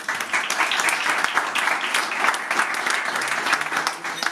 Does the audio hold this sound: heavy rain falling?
no